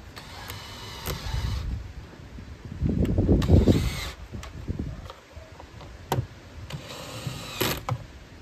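An electric drill with torque set low drives screws on a Land Rover Discovery 4 in several short bursts, with brief pauses and clicks between runs, close by and fairly loud.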